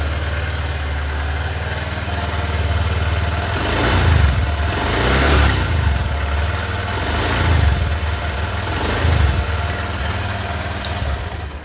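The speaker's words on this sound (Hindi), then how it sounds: "देख ही सकते हो आप एग्जॉस्ट साउंड" A Honda SP125 motorcycle idles close by with a smooth, even exhaust note, a steady low hum that swells slightly at intervals for the whole stretch, with no talking over it.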